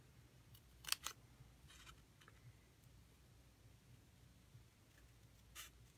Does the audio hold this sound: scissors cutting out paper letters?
yes